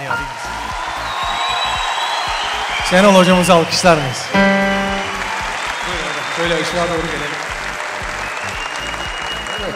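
A stadium-style audience applauds for a football coach at a celebratory event, sustained clapping throughout with cheers, while someone speaks over it and a brief sung or shouted passage rises in the middle.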